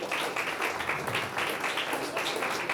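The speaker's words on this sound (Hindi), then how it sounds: "जोरदार तालियों से स्वागत कीजिए।" Audience applause greeting the founder and chairman of a charitable trust at a Hindi album release event in Goa, a steady dense wash of clapping from many hands that holds at an even level for the whole stretch.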